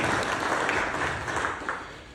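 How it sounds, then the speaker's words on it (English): An audience at a startup funding summit pitch event gives a round of applause, a thick wash of clapping that starts full and slowly fades over about two seconds. "How about a round of applause for this so far with all the work she's put in?"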